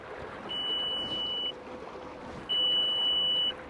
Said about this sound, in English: It's giving me alarm now.